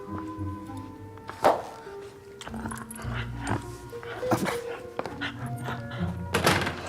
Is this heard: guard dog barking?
yes